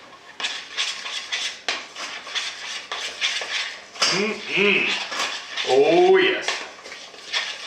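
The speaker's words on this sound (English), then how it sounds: "Give it a good stir." A metal utensil scrapes and clinks against a pot while chocolate fondue is stirred, in repeated close strokes, with a person speaking briefly over it.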